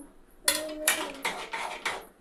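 Roasted peanuts are stirred into a ghee and sugar syrup in a pan, giving a run of close metallic scrapes and clinks, about five distinct strokes in quick succession.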